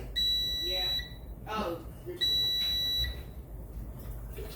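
Air fryer alarm sounding in two loud, sustained electronic beep bursts with a short gap, heard in a home kitchen while a person briefly speaks.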